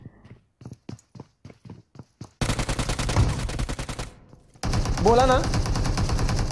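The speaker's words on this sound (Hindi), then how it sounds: "ओ शॉटगन, दो आवाज आ रही है मेरे को" Shotgun fire in the PUBG Mobile battle royale game, with bursts of gunshots and rapid, clip-clop-like impacts mixed with in-game noise. Someone talks over it.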